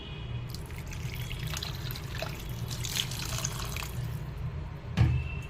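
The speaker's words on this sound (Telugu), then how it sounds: "ఇంకొంచెం వాటర్ పోసేసుకున్నాం" Water poured into a tomato, drumstick and brinjal curry, a steady low trickling splash running throughout with a brief louder slosh near the end.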